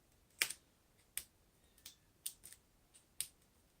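Backing strips are peeled one by one off small foam adhesive dimensionals for a card, each giving a short, crisp crackling tear, about eight quiet peels in quick succession.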